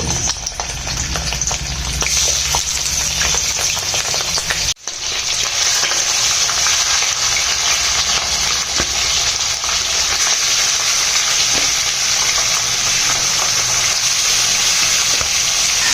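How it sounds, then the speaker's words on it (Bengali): Chicken pieces dropped one by one into hot mustard oil in a kadai, a loud dense continuous sizzle with a brief dip partway through, then a sustained hissing roar, close and without voices. "এবার একে একে চিকেনগুলোকে দিয়ে দেব"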